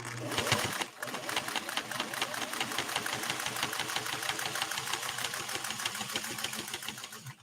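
A 1958 Singer 404 sewing machine pushes through two layers of cowhide, stitching fast and rhythmic at close range with a steady mechanical chatter that continues almost without a break after a brief hitch at the start.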